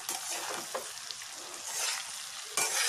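Okra fries on medium flame in a pan, a constant close crackling sizzle broken by a few scraping stirs, with a sharper burst of sizzle near the end.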